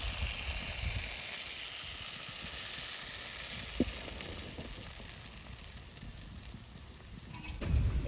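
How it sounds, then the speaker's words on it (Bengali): Mustard oil heating with dried red chillies in a kadai for patishapta pitha, giving a steady, moderate frying sizzle and hiss throughout, with a brief clink partway and a slightly louder stir of activity at the end. "শুকনো লঙ্কা দিয়ে গরম করে নিচ্ছি সর্ষের তেলটা"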